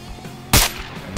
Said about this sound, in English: don't have my scope on and I'll just shoot over there